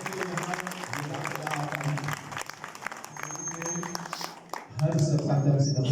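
Applause from attendees at the closing session of a refresher course for Hindu priests, a spread-out patter of clapping beneath a voice speaking over it, fading briefly before the talk resumes louder.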